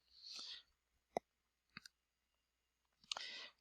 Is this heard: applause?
no